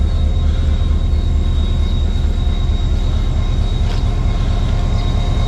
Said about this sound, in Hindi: मारवी पैसेंजर तैयार खड़ी हुई है खोखरो पार रेलवे स्टेशन पे